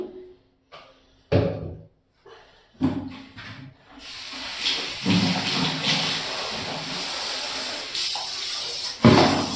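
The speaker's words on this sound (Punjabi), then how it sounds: "ਮੈਂ ਹੁਣੇ ਤੁਹਾਨੂੰ ਪਾਣੀ ਮਾਰ ਕੇ ਦਿਖਾਉਂਗੀ" Water is splashed onto dirty floor tiles during cleaning: a few sharp knocks at first, then a loud sustained rushing splash that runs for several seconds, with a final burst at the end.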